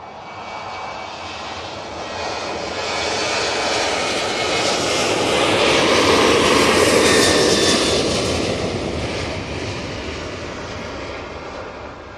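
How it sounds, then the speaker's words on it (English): A TUI airliner rolling down the runway at Manchester Airport on takeoff for Larnaca sends out a powerful jet roar that builds steadily to a loud peak midway, then slowly eases off as it climbs away. "Tui on the roll, off to Larnaca."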